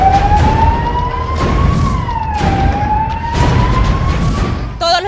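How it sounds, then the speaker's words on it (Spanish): Red Cross ambulance sirens wailing during an earthquake emergency drill, a loud rising and falling electronic tone sweeping continuously, with vehicle noise underneath and a brief warbling yelp near the end. "Las ambulancias de la Cruz Roja se sumaron a la emergencia."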